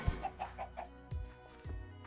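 A chicken in the Minecraft video game clucks in a quick series of short, bright bursts, followed by a couple of lower clucks, close and clear with no talking.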